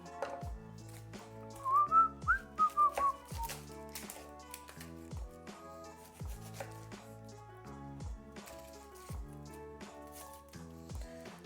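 Sprouting onions are chopped on a board in a home kitchen with quick, crisp knife taps in uneven runs. Background music with a whistled melody plays throughout.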